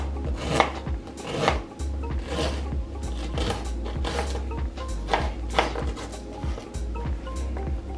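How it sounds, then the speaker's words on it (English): A knife chops an onion on a cutting board in quick, repeated strikes at a steady rhythm, close and clear over a low background hum. "Let's cut the onion then."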